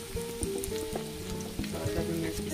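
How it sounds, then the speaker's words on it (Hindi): Cheesy bread fingers fry in oil over a medium flame, giving a steady close sizzle and bubbling with a few soft clicks from turning the pieces, and no talking. "गोल्डन ब्राउन होने तक कुक करेंगे, तो मीडियम फ्लेम पर ही फ्राई करेंगे।"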